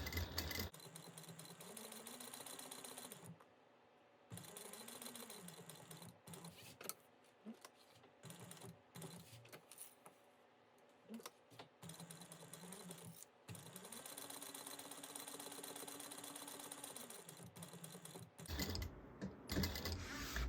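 A sewing machine stitches a bag with zipper tape, its motor whirring in several sustained runs that rise and fall in speed, separated by short pauses and a few clicks, close and steady with no talking.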